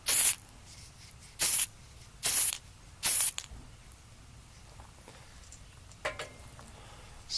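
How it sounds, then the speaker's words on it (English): White spray primer hitting a miniature Saloon Girl figure from Shadows of Brimstone, heard as four short, loud hissing bursts at a steady rhythm, then quiet with one faint brief hiss later. "Spray it directly down upon her."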